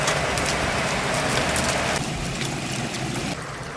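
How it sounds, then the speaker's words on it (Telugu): Hailstones and heavy rain pound steadily on surfaces outdoors in Italy, a dense, loud, continuous patter that eases slightly toward the end. "వడగళ్ళు వాన పడుతుంది."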